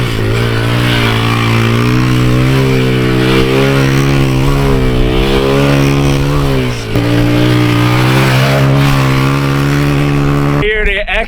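A 2007 Kawasaki KLX 140 dirt bike engine revs loudly and close up, its pitch climbing and falling in a sustained whine over about eleven seconds, with a brief dip midway.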